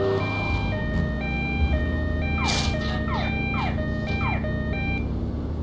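Ambulance siren in the Vice City game, a wailing electronic tone rising and falling in repeated sweeps over steady game background noise and engine hum, loud and continuous with no talk.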